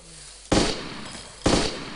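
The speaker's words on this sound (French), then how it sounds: "C'est toi qui tires là? Ouais, je tire." Two loud gunshots in the survival video game DayZ, about a second apart, each a sharp crack with a brief ringing tail, no voices audible.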